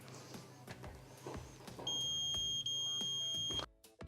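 Steady continuity beep from a multimeter as its probes test a Whirlpool stove's broil element, a clear tone holding for about two seconds over light handling noise before cutting off.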